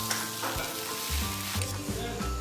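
Mashed potatoes being stirred into sizzling spices in a pan for a samosa filling: steady frying hiss with repeated scraping spoon strokes, close and moderately loud, with no talking.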